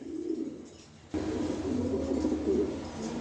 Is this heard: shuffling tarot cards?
no